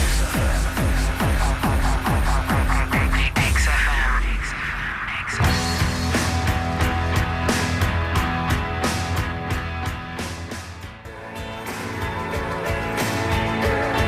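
A track produced by Phil Spector, played loud and full with a steady beat and dense instrumentation, a brief break near four seconds before the band returns; no talking over it.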